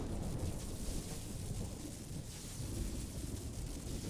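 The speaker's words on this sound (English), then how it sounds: "I see so much thunder." Thunder rumbles steadily in a stormy scene in the video game Xenoblade Chronicles X, a continuous low roar with rain-like hiss and no clear separate claps.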